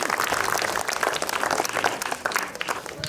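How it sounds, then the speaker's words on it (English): Audience applause fills a cosplay contest at the Long Island Retro Gaming Expo, a dense, steady wash of many hands clapping close by with no pause, running throughout. "Another round of applause."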